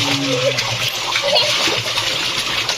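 Tap water runs in a steady, close splashing gush while a small child's hair is washed in the bath, and a low voice murmurs briefly beneath it.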